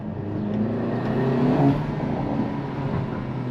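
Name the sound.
Volkswagen T-Roc R titanium exhaust line sound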